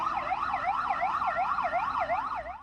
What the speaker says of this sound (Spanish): la defensa civil gazatí hizo sonar las sirenas en Ciudad Gaza